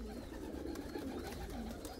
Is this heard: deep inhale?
no